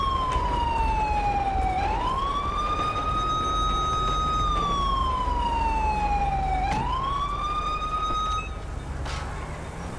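A police car siren in the video game GTA 5 wails continuously, sweeping slowly up and down in long cycles, loud and close over steady engine and road rumble.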